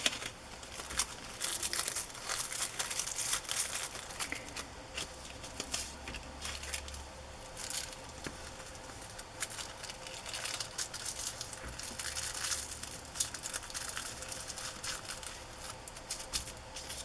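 Paper fabric is crumpled and handled close by, giving continuous crinkly rustling with scattered sharper crackles, fairly quiet throughout.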